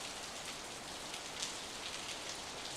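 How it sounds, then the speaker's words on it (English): Steady rain falling on surfaces, a dense, even hiss of drops that continues throughout at moderate loudness, with no talking. "it's raining here too"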